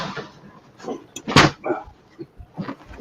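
A dog barks in one loud, sharp burst near the middle, with softer dog vocalizations and background noise before and after, set amid a tabletop game session indoors.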